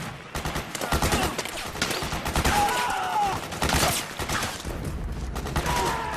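Sustained heavy gunfire from the video game Metal Gear Solid 4, dense overlapping bursts and rattling automatic fire in a battle, loud and continuous with faint shouting mixed in.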